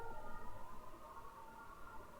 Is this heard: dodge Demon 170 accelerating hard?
no